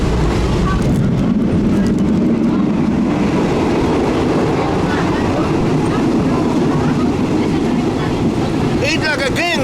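A Thai train rolls along, loud and close, with steady rumbling and clattering wheels on the rails and a brief squeal near the end; a voice talks briefly over the noise.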